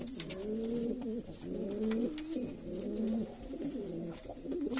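Homing pigeons coo in a rhythmic series of soft, throaty calls, close and steady throughout, with faint chirps in the background.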